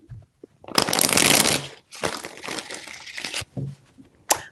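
Tarot cards are shuffled in a few quick riffling bursts, close and crisp with brief pauses between them, and no talking.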